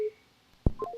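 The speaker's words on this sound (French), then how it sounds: "Prends le téléphone qu'on y a. Fais numéro ça." A telephone number is dialed, giving a few short, clear DTMF keypad beeps in quick succession after a brief tone.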